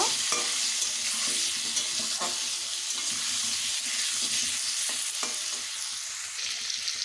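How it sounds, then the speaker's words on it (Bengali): Pieces of pointed gourd (potol) fry in hot oil with a steady, dense sizzle, and a utensil stirs them now and then with light scraping clinks, all close by and without any voices. "পটলগুলোকে ভালোভাবে ভেজে নেব"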